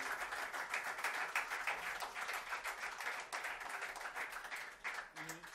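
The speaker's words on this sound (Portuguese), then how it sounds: "uma salva de palmas" Concert audience at a show claps in a sustained, dense burst, with a voice briefly speaking over the applause near the end.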